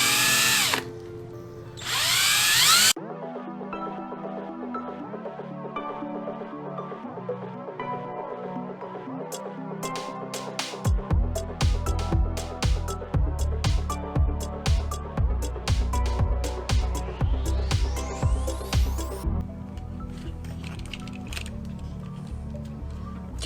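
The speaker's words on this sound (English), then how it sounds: "We're gonna start with a 1/16 drill bit." A small power drill with a 1/16-inch bit whirs steadily, then its pitch rises and falls in repeated bursts as it bites into a 1/12 scale RC ATV model, loud and close, with no talking.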